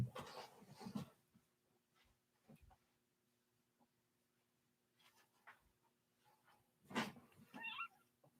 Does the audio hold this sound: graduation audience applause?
no